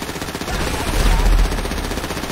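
Rapid gunfire in GTA V, a close burst of loud, rattling shots with heavy low thumps peaking around the middle, over a noisy background.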